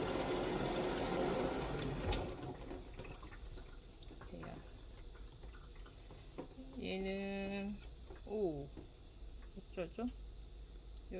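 Tap water runs over the roots of an anthurium plant being rinsed, a loud rushing stream at the start that soon drops away, and a voice speaks over the quieter remainder.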